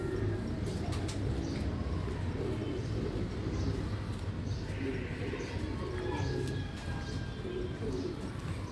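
Pigeons coo continuously in a loft, the soft rolling calls layered over a dense, steady bed of bird noise, with occasional chirps rising above, close and constant throughout.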